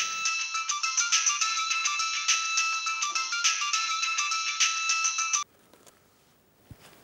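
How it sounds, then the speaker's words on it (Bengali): An incoming call ringtone plays loudly as a bright repeating electronic melody for about five seconds, then stops abruptly, leaving quiet room noise. "দেখছো ফোন আসছে"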